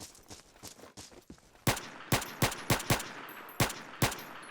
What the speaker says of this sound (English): That's the same USP pistol without the silencer